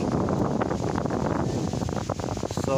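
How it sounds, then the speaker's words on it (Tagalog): Cool breeze blowing steadily outdoors among coconut palms, banana plants and trees near a bamboo house, a continuous close rushing wind with buffeting against the microphone throughout. "ang lamig ng simoy ng hangin na yun."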